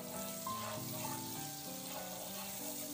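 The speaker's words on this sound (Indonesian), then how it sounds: "Selanjutnya kita panaskan margarin. Ini saya memakai margarin cair ya." Liquid margarine heating in a pan for a Korean-style egg and cabbage street sandwich gives a steady, close sizzle and crackle that runs unbroken throughout, with no talking over it.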